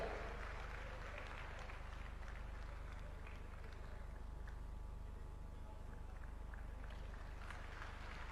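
A large audience claps steadily at a public ceremony honouring Nitin Gadkari in Hanumangarh, a faint, dense, continuous patter of many hands heard from a distance for the full stretch.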